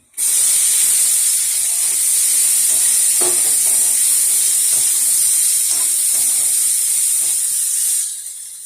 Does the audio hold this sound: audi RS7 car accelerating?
no